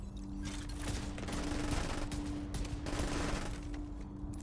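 Another player firing on someone in The Division 2, sustained bursts of gunfire crackling continuously over a steady low hum, loud and fairly close throughout.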